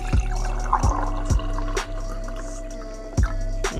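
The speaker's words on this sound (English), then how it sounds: "I just usually like pour some water" Water poured into a glass at home, with a few sharp splashing drips and clinks at irregular intervals over a steady low background hum.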